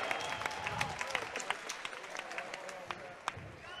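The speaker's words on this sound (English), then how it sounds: "How about a round of applause for both men in our main event?" Crowd applause at a mixed martial arts event after the main-event fight, sparse distant clapping with sharp individual claps, heard under an announcer speaking.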